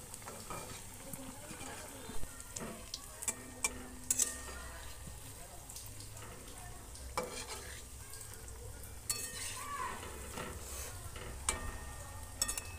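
Semolina snacks deep-fry in oil in a wok with a continuous gentle sizzle, punctuated by sharp little clinks and scrapes of a utensil at irregular intervals, close and fairly quiet, with no talking.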